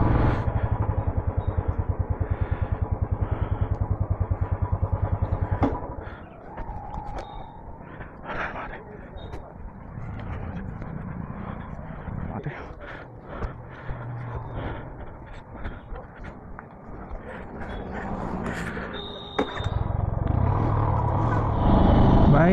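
Solo motorcycle ride on an expressway: steady engine drone and wind rumble throughout, loud at the start and end with a calmer middle stretch carrying clatter, and a few brief voice fragments.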